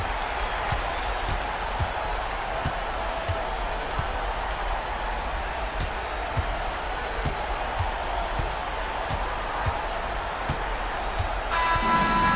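Crowd noise in a basketball video game from a Euroleague esports cup, a sustained roar and applause with rhythmic ball bounces and squeaks beneath, ending in a brief electronic tone.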